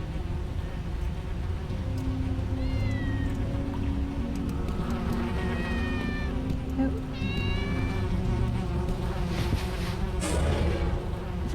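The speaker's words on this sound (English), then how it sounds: "Oh, look at little kitties." Several small kittens in the video game Tales of the Neon Sea give thin, high meows in short bursts over a steady background hum, with a buzzing insect-like drone nearby.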